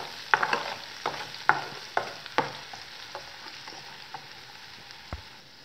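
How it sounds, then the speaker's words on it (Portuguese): Chopped bell pepper, onion and chili sautéing in oil in a frying pan, with a steady sizzle and several sharp stirring scrapes and clacks early on, then a quieter continuous fry with an occasional clink near the end. "coloquei o óleo na frigideira. Aí já vou estar colocando esses temperinhos aqui, ó, pimentão, cebola e pimenta de cheiro, tudo picadinho para dar aquela refogada."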